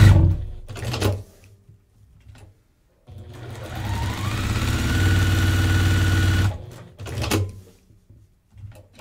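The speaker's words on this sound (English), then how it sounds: "But I'll just sew a couple of these and then we'll quit." A sewing machine stitches triangle paper quilt pieces in a primitive-style quilting setting, with short bursts of stitching, a sustained run of steady mechanical whirring in the middle, and further brief bursts afterward, all close and fairly loud.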